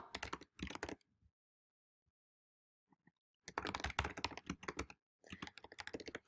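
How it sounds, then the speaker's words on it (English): Quick bursts of typing on a computer keyboard entering an email address, clusters of close, crisp key clicks separated by a pause with a few isolated taps. "I can just simply start typing in what my actual email address is"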